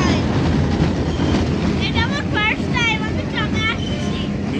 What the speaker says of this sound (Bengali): এই ট্রামে উঠলাম,